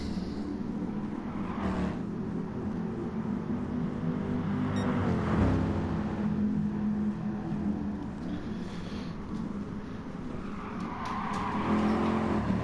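Race cars in a racing game sweep through a long banked corner, engines roaring continuously near and loud, with tyre squeal and a car passing by midway.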